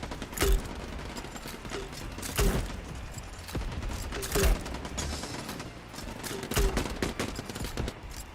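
Gunfire in the video game Quantum League, with bursts of sharp shots recurring every couple of seconds over clicking mechanical sounds and a busy background.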